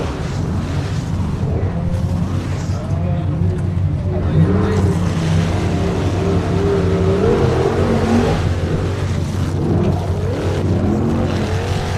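A rock racing buggy launches up a hill at Windrock Park, its engine a loud, sustained roar with rising revs that dominates, and commentators talking over it.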